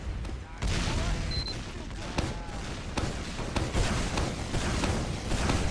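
Rapid sniper rifle shots and gunfire crack through the dense, constant din of an Overwatch League match on the Badlands map, with a caster talking over the action.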